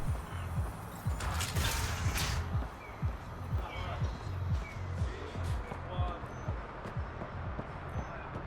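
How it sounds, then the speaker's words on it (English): A slow door-opening mechanism in the video game Mass Effect: Andromeda grinds and creaks with a run of rhythmic mechanical clunks and ratcheting ticks that continue steadily across several seconds. "Why is this door taking so long to open?"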